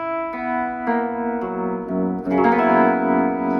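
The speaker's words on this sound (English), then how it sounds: "so if I want to slow the tremolo down." Sustained electric guitar notes played through a tremolo pedal waver with a slow tremolo, the volume swelling and dipping gently as chords change.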